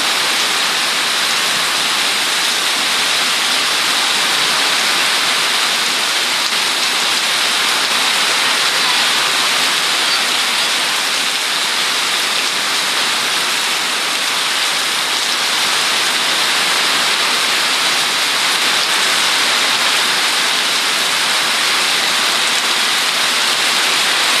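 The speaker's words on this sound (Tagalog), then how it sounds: "Sobrang lakas ng bagyo." Heavy typhoon rain and wind roar in a dense, unbroken wash of loud noise, a constant downpour hiss filling the air with no pauses or voices.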